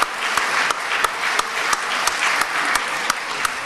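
Sustained applause from a seated audience in the Chilean Chamber of Deputies in Congress, steady broadband clapping with a few sharper claps standing out, loud and continuous with no talk.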